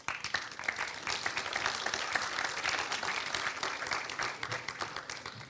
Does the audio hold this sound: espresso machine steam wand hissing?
no